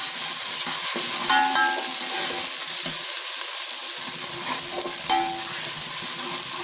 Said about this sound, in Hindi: अब इन प्याज को हम लोग फ्राई करेंगे, लाइट फ्राई करेंगे।